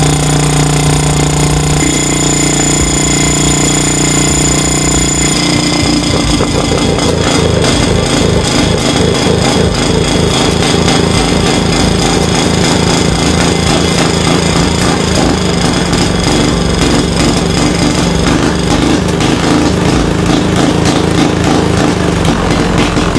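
A small boat engine fitted with a catalytic converter runs loud and steady, a fast rough chugging that stays constant throughout with no talk over it.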